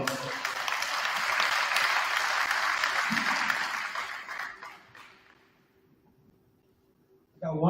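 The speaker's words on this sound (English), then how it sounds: "How about a big round of applause for Bob Miller?" Audience applause for Bob Miller at a college athletics Hall of Fame ceremony, loud and sustained at first, then fading away over several seconds before a voice comes in.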